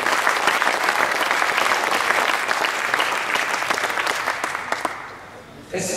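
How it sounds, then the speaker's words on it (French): A crowd applauds an under-13 selection squad of young players at a youth coaching session, the clapping dense and steady for about five seconds, then thinning and fading out. "je voudrais qu'on applaudisse le groupe moins de 13 ans de la sélection."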